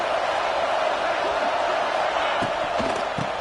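Stadium crowd noise in the College Football 26 video game, a dense, steady roar of many voices filling the background, with a few faint thumps near the end.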